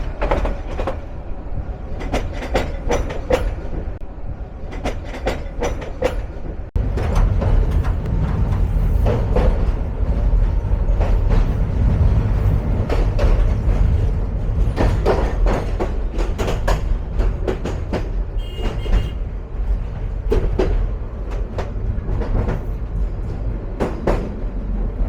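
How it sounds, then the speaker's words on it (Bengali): The Egarosindhur Provati Express, on the Dhaka to Kishoreganj line, pulls out of Kuliarchar station with a loud, continuous rumble of wheels on rails, rhythmic clacking over joints and rattling carriages throughout. "যাত্রা বিরতি সম্পূর্ণ করে কুলিয়ারচর ছাড়ছে 11 সিন্ধুর প্রভাতী"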